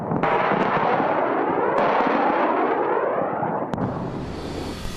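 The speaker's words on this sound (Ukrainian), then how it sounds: "недалеко від будинку можна почути постріли." Loud, dense rumbling bursts of gunfire and explosions near a house in Afghanistan as a helicopter fights Taliban fighters, with sharp cracks at intervals and a low roar throughout; no voices.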